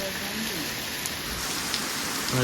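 Steady rain falls on a road during a car drive from Junagadh to Bamanwada, a dense continuous hiss with no talk in the clip.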